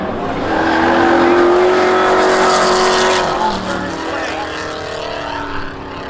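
Race cars roar at Seekonk Speedway during a spectator drags event, a loud sustained engine drone with a rising pitched whine as cars pass close, then easing to a steadier rumble, with a commentator's voice faintly under the noise.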